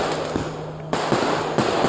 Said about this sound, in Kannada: ಮನೋರಂಜನೆಗಾಗಿ ಪಟಾಕಿಗಳು